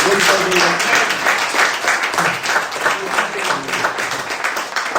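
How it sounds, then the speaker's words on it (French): Church congregation applauding together during a Sunday service, a full, continuous roar of many hands clapping, with a voice talking over it. "On peut applaudir au Seigneur pour ce qu'il va faire"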